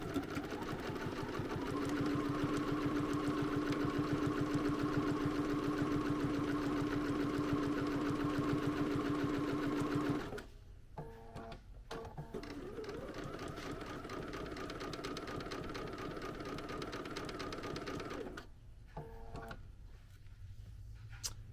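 A sewing machine stitches a quarter-inch seam around a child's oven mitt, running steadily and loudly up close, pausing briefly near the middle and end before resuming.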